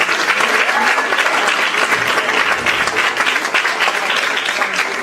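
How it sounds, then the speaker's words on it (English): A large school band concert audience claps in a dense, sustained round of applause that stays loud and steady for the full stretch, without any speech over it. "let's give them a nice round of applause"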